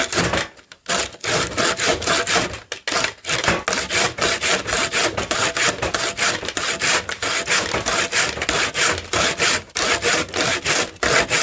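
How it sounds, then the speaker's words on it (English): Hand saw cutting through mulberry wood to shape a hammer handle, steady rhythmic back-and-forth strokes, close and loud, with brief pauses early on before a continuous even rasping pace. "And start sawing in there."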